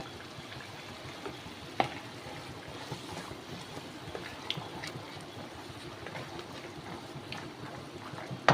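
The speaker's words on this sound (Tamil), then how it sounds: "பட்டாணி போட்டு இப்படி கொதிக்குது இல்லையா" A pot of peas for peas masala bubbles and simmers steadily, with a dense fizzing texture and occasional small pops and clinks, no voices.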